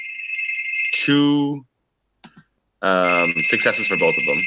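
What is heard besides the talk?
loud doorbell ringing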